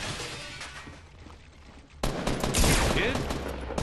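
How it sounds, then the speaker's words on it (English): Video game gunfire, likely in Fortnite, with bursts of rapid shots that grow louder and denser midway, mixed with other game noise. "I'm getting shot from someone else, too."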